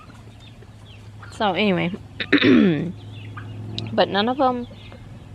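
Backyard hens cluck and squawk in a few loud bursts close by, with a low steady hum underneath and people chatting between the calls.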